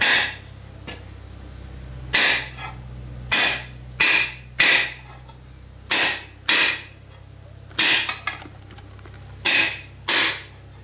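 A hammer strikes metal car parts around a transmission mount while work is done on a 496 big block engine. About a dozen sharp, ringing blows land at an irregular pace over a low steady hum, with no talking.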